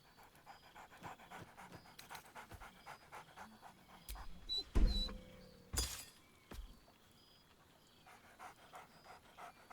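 Dog panting in Baldur's Gate III, quick breathy huffs running through the clip under game ambience, with a brief sharp clatter in the middle.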